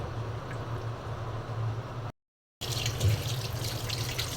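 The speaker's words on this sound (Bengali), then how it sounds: "রুই মাছটা ধুয়ে আমি উঠিয়ে নিচ্ছি" Running tap water splashes steadily while a large, market-cut rohu fish is rinsed under it, a continuous close wash broken by a short silent gap midway.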